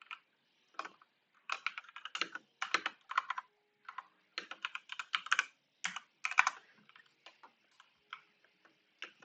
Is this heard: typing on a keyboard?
yes